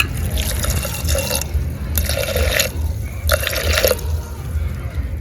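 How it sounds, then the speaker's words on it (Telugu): Water is poured over jaggery in a pan in three separate splashing bursts, near and fairly loud, each lasting about a second. "గ్లాసున్నర నీళ్ళు పోసుకుందాం"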